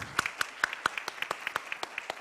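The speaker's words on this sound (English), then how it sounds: "And new round of applause to the authors of the report." Sparse, scattered clapping from a conference audience honoring the authors of a World Bank report on Pakistan's economy, with individual claps distinct and spaced unevenly, moderately quiet, no talking over it.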